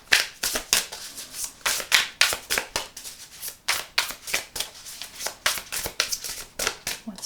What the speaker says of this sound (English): Maybe a good riffle shuffle will help.